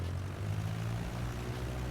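A propeller airplane engine in a flight simulator game hums as a steady, fairly quiet low drone, flying around Norwich, UK, with no talk over it.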